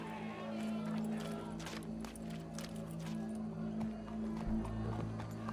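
Horse hooves clip-clopping as a horse approaches in the Western video game Red Dead Redemption 2, a steady rhythm over a low ambient hum, with a louder thump near the end.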